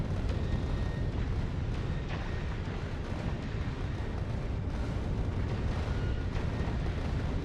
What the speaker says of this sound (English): That's why we're seeing the shots, more rocket shots coming out.